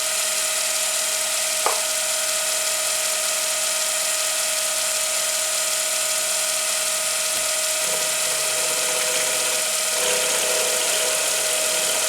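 A milling machine runs a new 2-flute carbide cutter at raised speed, giving a continuous high whine with a steady tone, a few brief clicks and slight changes in the cutting sound.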